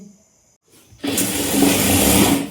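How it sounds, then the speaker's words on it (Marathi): A sewing machine stitches salwar fabric, starting after a short pause and running in a steady, close, loud whir for over a second before easing off, with no talk over it. "त्यानंतर असं दाब शिलाई मारून घ्यायची मॅनीला."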